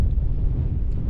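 Wind gusting across an exposed hilltop summit on Tosson Hill, Northumberland, a steady low rumbling buffet against the microphone with no voices, loud and continuous throughout.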